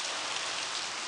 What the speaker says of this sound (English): Ooh, look at all the rain on the car